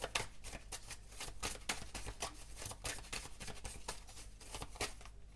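Oracle cards shuffled in a rapid, steady run of crisp riffling flicks, close and fairly quiet, with no voices over it.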